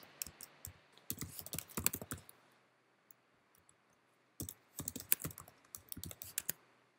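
Keys clatter on a computer keyboard in two quick bursts of clicking, separated by a short quiet pause, close and fairly crisp.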